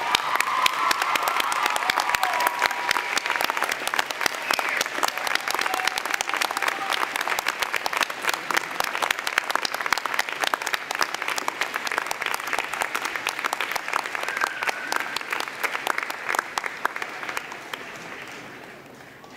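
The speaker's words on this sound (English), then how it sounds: "giving them a big round of applause" Graduates at a UBC convocation ceremony applaud their parents, family and friends, producing dense, sustained crowd applause with scattered cheers that continues at an even level before fading slightly at the very end.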